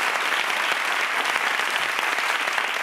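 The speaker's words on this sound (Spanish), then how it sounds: "Un aplauso, bueno, para Jorge, que siga ahí." Studio audience applause on the late-night Spanish TV talk show La Resistencia, a dense, loud and steady wash of many hands clapping with no break and no voices over it.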